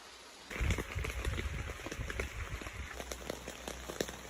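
Rain patters against a nearby tent at a campsite, starting abruptly and continuing as a dense, uneven shower of drops with occasional heavier taps.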